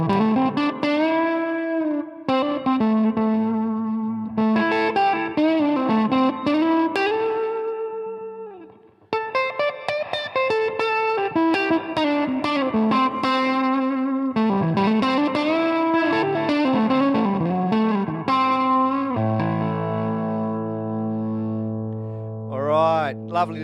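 An Artist LP60 electric guitar played through a Tweedtone V amp with the distortion engaged, loud overdriven chords and sustained bent notes with reverb, ending on a held, ringing chord.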